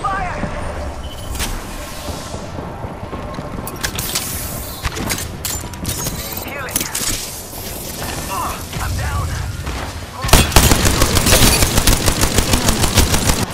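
Dense automatic gunfire and weapon mechanisms in the battle royale video game Apex Legends, continuous and busy with a louder rapid burst near the end.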